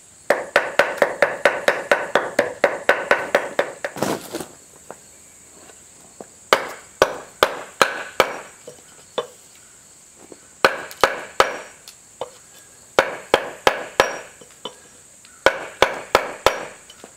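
Wood being chiseled while making a bowl vise, sharp close tapping strikes in rapid rhythmic bursts separated by short pauses, a dozen or so quick blows per run.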